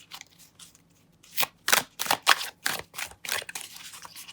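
A tarot card deck being shuffled by hand in several quick bursts of papery riffling and slapping, close and dry, with short pauses between them.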